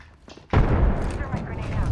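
A frag grenade goes off in a sci-fi shooter video game, a sudden loud blast after a quiet half second, followed by a sustained roaring rumble and debris noise.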